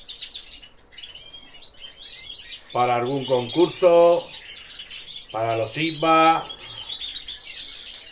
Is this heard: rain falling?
no